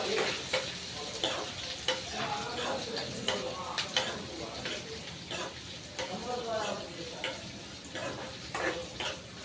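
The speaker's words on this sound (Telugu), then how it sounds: "ఇవి బాగా వేగాలి." Onions and green chillies fry with cumin in a pan, giving a close, steady sizzle punctuated by repeated scraping stir strokes, with a voice faintly present in the background.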